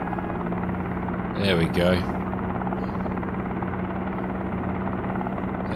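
A helicopter engine starts up in a flight simulator game, producing a steady droning hum with a constant tone under the whole stretch, while someone speaks briefly over it.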